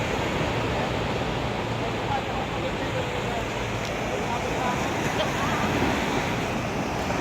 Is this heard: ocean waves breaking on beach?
yes